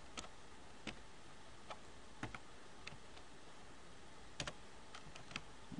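Faint, scattered keystrokes tap on a computer keyboard as a router configuration command is entered, the sparse clicks sitting over a steady hiss.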